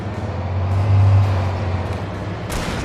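Low engine rumble of the deer parade float vehicle in the video game Alan Wake Remastered, a steady droning motor that swells in the middle and holds on, with a brief hiss near the end.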